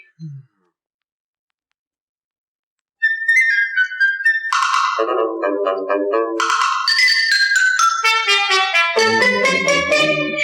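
A bright whistled melody starts after a few seconds of silence, moving through quick, lively notes up and down the scale.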